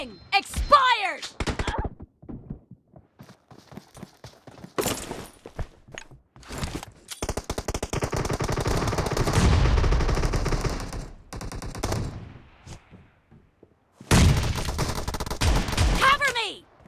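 Rapid shotgun blasts and bursts of gunfire in a team deathmatch video game on a warehouse map, arriving in loud clusters separated by near-silent gaps.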